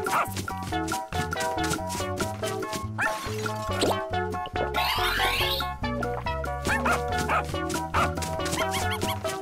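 A dog barks in short yips amid loud, rhythmic children's music and cartoon crash and whoosh effects, the barks brief and partly buried in the mix.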